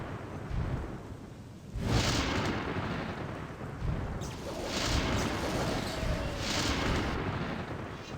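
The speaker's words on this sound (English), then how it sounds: "This lightning is driving me insane." Thunder rolls and cracks during a lightning storm in the video game Gothic II, with several broad rumbling booms over steady rain-like noise.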